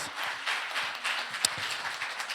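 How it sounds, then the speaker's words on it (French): A church congregation claps during a Sunday Christmas celebration service, producing a brief, steady spray of many hands with scattered sharper individual claps. "on peut applaudir le Seigneur"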